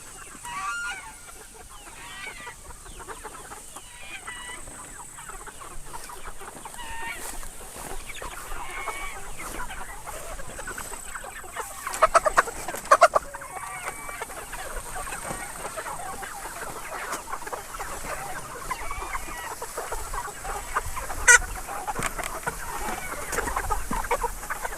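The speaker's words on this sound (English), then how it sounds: "let's get to moving these guys, get them set up, and make some room for these Cornish" Cornish chickens cluck and murmur continuously at moderate volume while being moved into poultry netting outdoors, with a few sharper bumps and rattles partway through and no talking.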